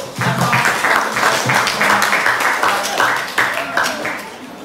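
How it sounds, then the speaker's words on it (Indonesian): A classroom audience of students claps for a presenting group, giving brisk, continuous applause for several seconds. The clapping stays close and lively, with some vocal noise mixed in. "Beri aplaus untuk kelompok 1"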